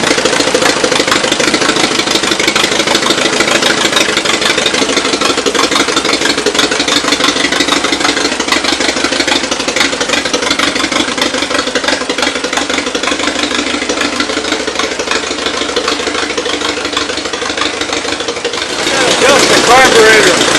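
A 1937 Massey Harris Challenger tractor engine runs steadily on its first start in 44 years, a loud, rough, continuous rumble with a brief shift near the end.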